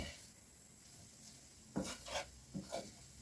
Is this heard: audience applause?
no